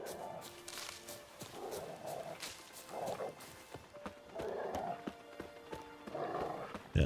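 Hooves clip-clop steadily from a walking horse in The Witcher 3 Next Gen, even footfalls at a moderate pace over a soft background of ambient game music, with no talking.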